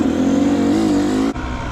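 A motorcycle engine revs in a steady, close drone that rises slightly in pitch before cutting off sharply, with no talking over it.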